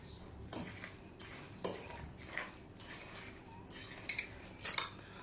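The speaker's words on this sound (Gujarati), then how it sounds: "હવે આપણે સરસ મજાનું આને મિક્સ કરી દેવાનું છે" A spoon mixes mango pickle with oil in a metal vessel, giving soft scattered clinks and scrapes with a louder clatter near the end.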